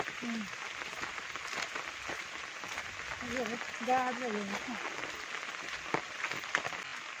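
Steady rain hiss fills the background, with a voice talking over it and occasional sharper drops or taps.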